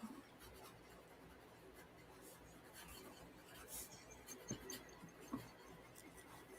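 A pencil or pen scratches across a blank journal page in quiet, irregular strokes, soft rubbing and scratching with a few slightly louder taps.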